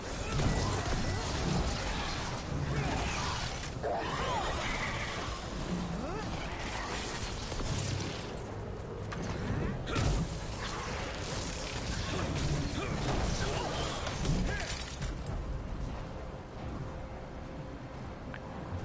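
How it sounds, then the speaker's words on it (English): Heavy hammer blows smashing demons in Dragon Age: The Veilguard combat, with repeated crashing impacts and swooshes over a dense, continuous wash of battle noise and music, alongside occasional talking. "Okay, we're smashing all the demons up."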